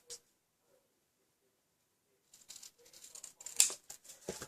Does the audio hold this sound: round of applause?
no